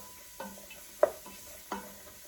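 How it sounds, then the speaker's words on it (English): A spoon stirs mirepoix vegetables sautéing in a soup pot, giving three distinct scraping stirs over a quiet, faint sizzle, close and with no voices. "Take my spoon, give that a stir."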